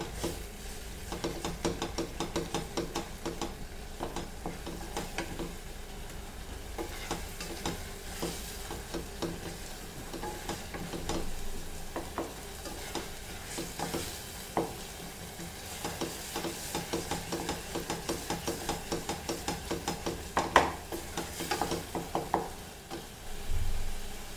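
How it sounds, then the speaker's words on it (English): Masala fries in oil in a pan for Goan coconut dal, giving a steady close sizzle broken by scrapes and clinks of stirring with no voices. "Fry this nicely, the masala."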